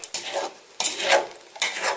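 Sugar frying in a hot pot is stirred in three quick scraping strokes, each a sharp metallic scrape with a soft sizzle, close and fairly loud.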